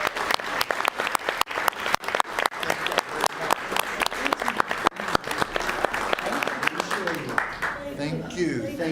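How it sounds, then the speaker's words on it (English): Steady applause from a room of people at a city commission meeting, a dense run of claps lasting several seconds before thinning out as voices begin talking over the end. "let's give them a round of applause"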